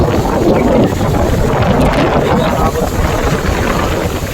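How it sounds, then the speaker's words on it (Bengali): Strong wind roars steadily and buffets the microphone throughout, a dense, gusty rush with no pauses. "প্রচণ্ড হারে হাওয়া করছে"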